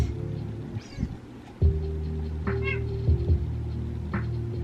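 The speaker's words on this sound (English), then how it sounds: "my cat is right here" A pet cat meows indoors in a few short, close calls spread across several seconds, over a steady low household hum with no talking.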